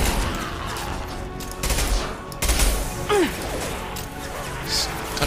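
Machine gun fire in the video game Mass Effect 2 rattles out in short bursts among crashes and whooshes of combat, set against a steady game soundscape.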